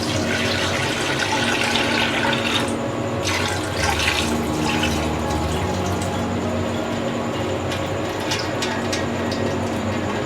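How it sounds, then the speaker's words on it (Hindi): Water pours steadily from a pot of soaked rice as it is drained in a home kitchen while making chicken dahi pulao, a continuous close splashing trickle with no talk. "अब हम इसका पानी निकाल देंगे।"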